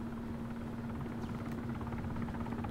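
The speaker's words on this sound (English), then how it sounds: "enemy aircraft I need you to hit" An enemy aircraft in the Arma 3 video game gives off a steady, continuous droning hum, like a helicopter engine and rotor, that stays loud and even throughout.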